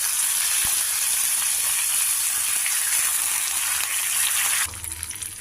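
Green chillies, curry leaves and asafoetida sizzle in hot oil for a tempering, a steady loud frying hiss that runs unbroken and eases slightly near the end, with no talking.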